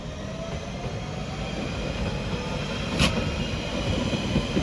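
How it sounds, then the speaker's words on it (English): A London Underground 1992 stock train bound for Hainault pulls out of the station with a steady low rumble and wheel roar, a brief high squeal rising midway, heard from the platform with no talking. "we have a 1992 stock bound for Hainault departing"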